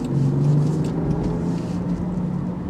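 Land Rover Defender 110 engine pulling and accelerating on the road, heard from inside as a steady low rumble with a rising engine note over road noise.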